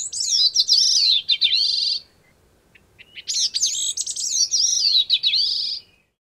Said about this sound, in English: its song rises in pitch at the end